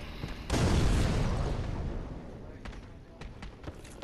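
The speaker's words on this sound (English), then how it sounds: "And he just threw a bomb." A thrown bomb bursts in the video game Dark Souls 3, one loud close deep blast that rumbles and fades over a couple of seconds, followed by a few small sharp clicks.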